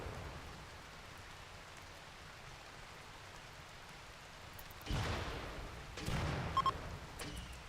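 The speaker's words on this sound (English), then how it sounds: "That's right, it's raining." Rain falls steadily in the video game Rimworld, a soft continuous hiss at low level, with two louder swells of heavier rain or rumble near the end.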